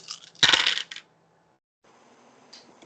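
Dice tumble and clatter onto a hard surface during a tabletop Pathfinder game, a brief burst of rattling clicks that settles quickly, followed by near silence and a faint later tap.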